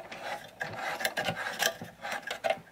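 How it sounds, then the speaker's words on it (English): A clamp is tightened on a Hoover Elite 700 upright vacuum cleaner during repair, giving close, repeated ratcheting and grinding turns in short uneven bursts. "Tighten that clamp a little more."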